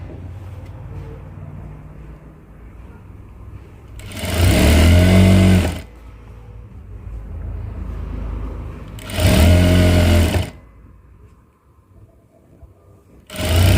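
Sewing machine stitching down a folded fabric hem, with two loud bursts of running of about two seconds each and a third starting at the end, separated by quieter handling noise.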